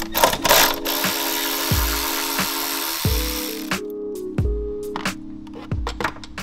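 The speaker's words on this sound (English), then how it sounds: "So we're gonna start by removing the 8 millimeter ground bolt." An 8 mm ground bolt is removed on a Ford Mustang EcoBoost, with several short bursts of a power ratchet or drill whirring and clicking, plus scattered tool knocks and clatters close by.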